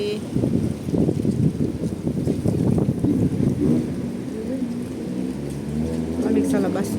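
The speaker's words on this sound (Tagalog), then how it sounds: "Windy today." Gusty wind buffets the microphone outdoors on a cold day, a low rumbling roar under people talking nearby.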